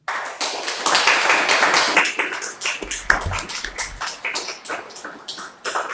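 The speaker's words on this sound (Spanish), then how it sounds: "Dale un fuerte aplauso a nuestro Señor Jesucristo." Congregation at a Spanish-language church service claps loudly and steadily, a dense wash of hand claps filling the whole stretch with no speech over it.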